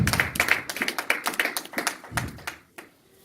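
A church congregation claps in praise of Jesus, a quick run of sharp, fairly steady hand claps that thins out and stops near the end, with no talking over it.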